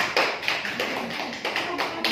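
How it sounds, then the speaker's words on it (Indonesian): Brief, uneven clapping from a small classroom group applauding a student, a few close hands patting in loose rhythm for a couple of seconds. "beri tepuk tangan untuk teman kita"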